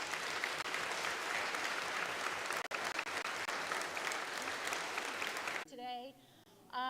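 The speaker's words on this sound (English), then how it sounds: "a big round of applause" A crowd at a library groundbreaking ceremony gives dense, sustained applause for about five seconds before it cuts off and a single voice begins talking.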